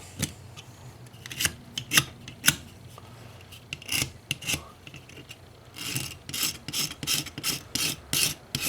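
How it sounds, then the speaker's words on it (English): Old gasket material is scraped off a Craftsman 6hp string trimmer engine in close, rasping strokes, with irregular bursts at first and then a quicker rhythmic series of scrapes. "Let's clean a little bit of that gasket off of there."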